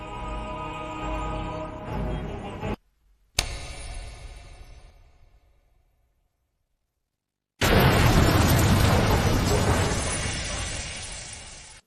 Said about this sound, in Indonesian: ledakan yang terjadi barusan